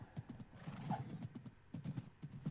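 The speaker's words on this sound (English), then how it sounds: "I'm gonna go see if this horse is any faster." A horse in the video game Minecraft clops along in quick rhythmic hoofbeats, with a short neigh midway, heard fairly faint and without talk over it.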